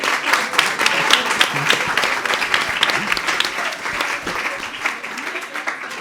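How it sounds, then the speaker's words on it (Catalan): Lively audience applause, uneven and pulsing, with clustered claps and some cheering voices mixed in throughout about six seconds. "Aplaudiu, aplaudiu, sou molt bo."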